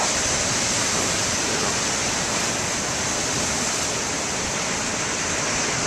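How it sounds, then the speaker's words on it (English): Big ocean waves at BeaverTail Lighthouse, a loud, unbroken roar of surf and wind that holds steady throughout with no distinct individual crashes. "drown out the sound of the waves"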